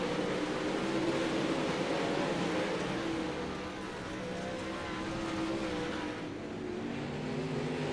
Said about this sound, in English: A lot of banged up cars there. They're still rolling for now.